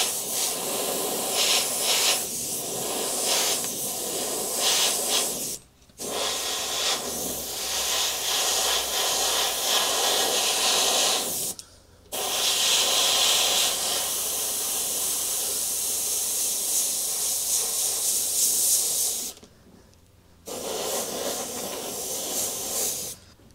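An airbrush sprays paint with a steady hiss in long stretches, broken by three brief pauses, close and fairly loud with no talking.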